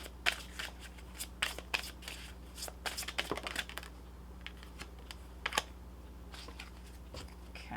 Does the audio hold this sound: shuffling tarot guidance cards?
yes